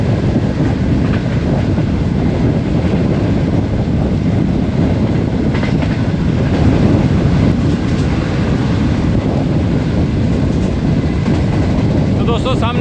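The Jaffar Express passes close by, a steady loud rumble of rolling wheels and rail clatter filling the whole stretch, with a brief squeal near the end.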